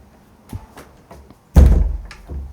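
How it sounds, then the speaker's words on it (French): A door is closed indoors, with light shuffling and taps before one loud, close thud that rings briefly, followed by a smaller knock. "Tu fermes la porte?"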